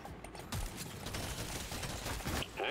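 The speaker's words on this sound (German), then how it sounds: "Alles explodiert hier schon wieder." Rapid bursts of explosions and weapon fire from the video game Deep Rock Galactic Survivor, a dense and continuous barrage of cracks and booms that keeps going throughout, with no speech.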